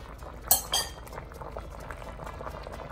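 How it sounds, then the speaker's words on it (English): Red Thai curry with snow peas simmers in a pot with a quiet bubbling burble, broken early by two sharp clinks of a metal utensil against the pot, with no talk. "I'm gonna let it simmer for a little while longer."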